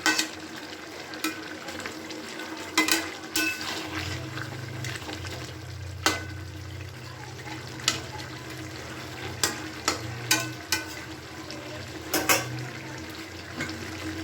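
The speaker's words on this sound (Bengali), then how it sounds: "এবার আমি ভেজে রাখা মাছগুলোকে ওকে দিয়ে দিচ্ছি খুব ভালো করে সবজির সঙ্গে মিশিয়ে দিচ্ছি" Fried amudi fish are stirred into simmering vegetables in a pan. A steady frying sizzle runs throughout, broken by repeated clacks and scrapes of the spatula against the pan at irregular intervals.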